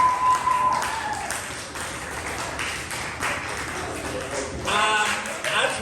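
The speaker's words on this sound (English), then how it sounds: "those of you who think Eunice won that battle, round of applause right now" A comedy show crowd applauds in a dense, continuous wash of clapping mixed with cheers and chatter that swells again toward the end.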